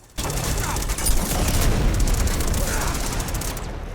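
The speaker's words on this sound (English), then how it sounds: "get our second tank shot right here" A tank cannon fires in the Uncharted 2 video game, a loud sustained roar of blast and rumble that fills the whole stretch without pause, with dense low booming and crackling debris noise.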